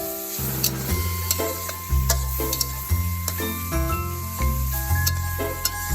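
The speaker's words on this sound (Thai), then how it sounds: "เราจะทำการผัดหมูกับกระเทียมให้เข้ากันอีกทีนึงนะคะ" Sliced pork and garlic sizzle in a hot pan for sweet and sour pork, a steady frying hiss broken by rhythmic scrapes and taps of the spatula as the meat is tossed, with a low background hum.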